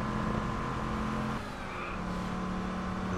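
Car engine driving hard in Just Cause 2, a loud steady roar with sustained tonal drone that shifts pitch partway through as the vehicle speeds along close by.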